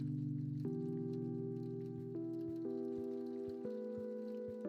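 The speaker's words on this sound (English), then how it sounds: "the soothing sound of rain falling on a window" Rain falls steadily on a window in the Kathy Rain point-and-click game, a soft continuous patter running beneath loud sustained musical tones.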